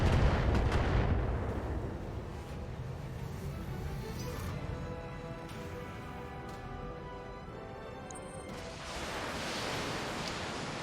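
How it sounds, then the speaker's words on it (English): Missile barrage in the BattleTech video game: a loud opening burst of impacts fades into a long rumbling roll of distant explosions with scattered sharp pops, then swells again near the end, no voices present. "That's a lot of missiles."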